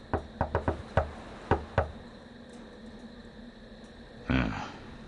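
A special knock on a cellar door in the video game Nocturne: a rhythmic series of about eight sharp wooden knocks in an uneven pattern, close and distinct, followed after a pause by a duller thud.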